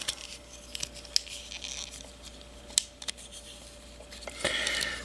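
Plastic parts of a Transformers Legacy Evolution toy are folded by hand, giving a scatter of light clicks and snaps with soft rustling between them, close up and quiet against a faint steady hum.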